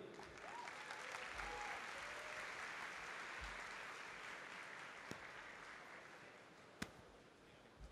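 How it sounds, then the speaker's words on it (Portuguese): A conference audience applauds a physicist's talk in a large hall, a long, broad wash of clapping from many people, fairly distant and soft, holding steady for several seconds before thinning, with a couple of sharp knocks near the end. "Então, um aplauso forte para Ivair."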